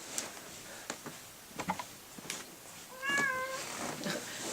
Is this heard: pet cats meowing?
yes